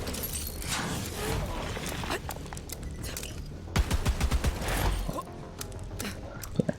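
Weapons fire in the video game Borderlands 3, rapid bursts of sharp shots and crackling impacts spread across a noisy battle, with heavier clustered blasts toward the end.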